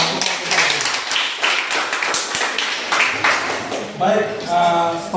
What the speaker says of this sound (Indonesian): Tepuk tangan juga